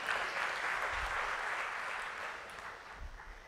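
An audience breaks into applause at a talk, a dense, steady wash of clapping that fades gradually toward the end.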